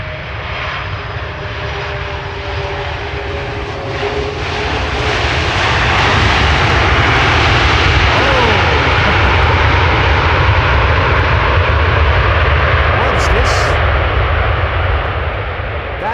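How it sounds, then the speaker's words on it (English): KLM airliner arriving from Toronto and landing on Schiphol's Polderbaan runway, a loud continuous jet roar that swells and holds as reverse thrust is applied, heard from a distance outdoors. "That's a little bit of reverse thrust being applied there."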